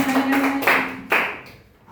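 Students in a physics classroom clap in short bursts, a few sharp hand claps mixed with taps, heard under a teacher's talk and fading toward the end.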